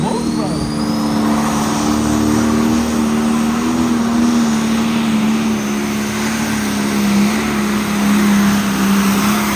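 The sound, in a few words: special edition pulling tractor engine roaring at tractor pull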